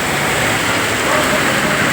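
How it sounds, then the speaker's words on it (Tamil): Steady rain pours down in a dense, even hiss, loud and close, with no pauses and no voices over it. "அனுப்பி உடனே மறுபடியும் மீண்டும் மழை பெய்யுது"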